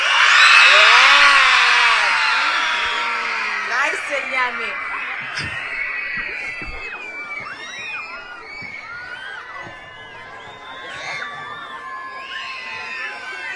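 A large group of children scream loudly in a shrill burst that peaks at the start and fades into scattered shouts, squeals and laughter, with an adult speaking briefly.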